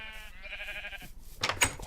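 A sheep in Minecraft gives a single wavering bleat, close and clear, followed by a short clattering blockish thud in the game world.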